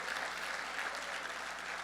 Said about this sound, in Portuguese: Aleluia, aplauda o Senhor, crente.